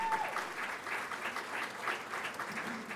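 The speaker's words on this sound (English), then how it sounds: "Let's have a round of applause for Don Cannon." A crowd claps steadily at a tribute event, a soft, sustained wave of applause heard from a distance at low volume, with no voices over it.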